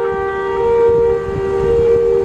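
A steady siren holds a sustained, unwavering tone throughout, fairly loud, over a low rumble of background noise during a thunderstorm with heavy rain and flooding in Mineola, New York.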